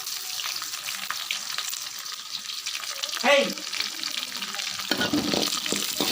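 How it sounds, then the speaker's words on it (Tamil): Steady crackling sizzle of dried red chillies and mustard seeds frying in hot oil, with a brief stirring clatter midway and louder spattering near the end. "நம்ம இப்போ வந்து காஞ்ச மிளகா, கடுகு ஆட் பண்ணிக்கலாம்"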